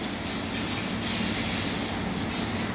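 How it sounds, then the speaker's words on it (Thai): Many loud electric fans run together in a cattle barn that houses 56 cows, producing a dense, steady roar of rushing air with a faint whine on top that never lets up. "เสียงพัดลมดัง พัดลมมีหลายตัว"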